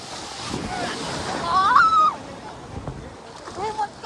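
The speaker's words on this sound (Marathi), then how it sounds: "ओहो भाई लय मोठी लाट आली आता." Large sea waves roll and break on a beach in Goa, a steady broadband surf roar swelling around the middle, with people talking and calling out over the water noise.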